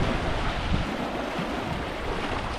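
Wind gusts across the sea during a snorkeling trip in the Caribbean, a steady loud rush of wind noise mixed with the wash of surf.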